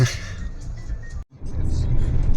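A 2023 Subaru Forester Wilderness on a test drive after a failed reflash, its low engine and road rumble steady inside the cabin, dropping out briefly for a moment before resuming.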